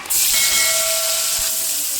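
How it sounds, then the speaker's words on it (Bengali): A sudden loud hiss and sizzle as chicken hits hot oil for fried rice, continuing as a steady intense sizzle with a faint whistling tone. "আমি এবারে ওই তেলের মধ্যে দিয়ে দেবো মাংসটা"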